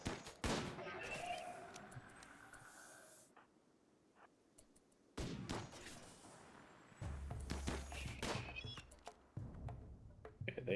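Rapid gunfire crackles in bursts during a RimWorld firefight as colonists focus fire on one target. The volleys are sharp and close, broken by a brief lull, and someone talks over parts of the shooting.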